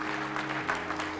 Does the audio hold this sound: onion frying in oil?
no